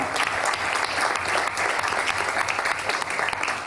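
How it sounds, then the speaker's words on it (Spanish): Audience at a Catalan public event giving a steady, dense round of applause, continuous clapping from a crowd at moderate distance with no break. "otro aplauso para Mar"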